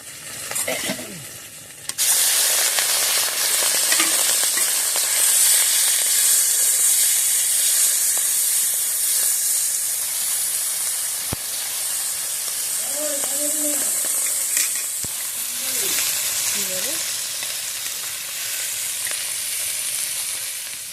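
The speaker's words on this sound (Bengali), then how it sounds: "এবার আমি চিংড়ি মাছটা ভেজে নেব" Prawns fry in hot oil in a kadai, producing a loud, steady sizzle and hiss that starts abruptly and continues throughout. A few short voiced sounds come through faintly over the frying.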